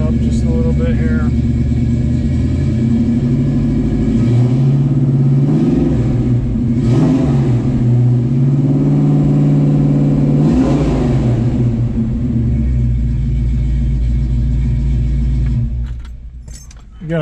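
A 1969 Ford Mustang Mach 1 in excellent running condition revs up steadily from idle, its engine rumbling loud and close throughout, with a voice talking over it before the sound cuts off near the end.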